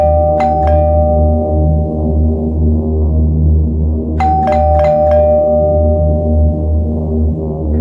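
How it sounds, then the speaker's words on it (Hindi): A doorbell rung at an apartment door: two clear electronic ding-dong chimes several seconds apart, loud and close, each ringing out over a steady low drone. "तो मैंने कई बार डोरबेल बजाई,"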